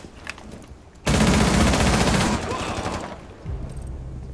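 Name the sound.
gunfire in Rainbow Six Siege video game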